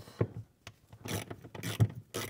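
A 10 mm ratchet loosens bolts on a BMW B58 engine while a flex fuel kit is installed, producing close, loud mechanical clicks and rasping bursts in short irregular pulses.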